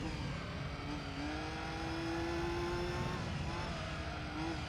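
Race car engine in Gran Turismo 3 braking hard into a hairpin, a continuous buzzing engine note that shifts in pitch as revs fall and rise, steady and moderately loud throughout.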